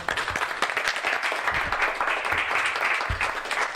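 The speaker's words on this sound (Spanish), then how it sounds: "Un fuerte aplauso." An audience at a conference applauds after a talk, a full, sustained burst of clapping close and loud, with a few scattered louder claps standing out.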